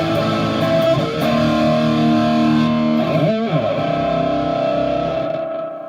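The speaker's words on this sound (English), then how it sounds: "now I am on the distortion side of the amp." Electric guitar played through a heavily distorted Augustine Mark XIII custom amplifier running at 100 watts, sustained gritty chords ringing loudly with a quick slide in the middle.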